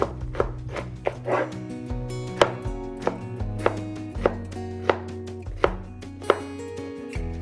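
A knife chops vegetables, including portobello mushrooms, zucchini, squash and asparagus, on a cutting board in steady, evenly spaced strokes, each a crisp close thud over a low hum, with no talking.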